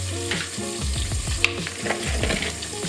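Steady bubbling and sizzling from a pot of boiling water cooking tortelloni on the stove, with occasional soft clinks and stirring sounds throughout.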